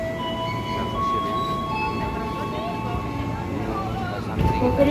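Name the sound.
commuter train arriving at Tanah Abang station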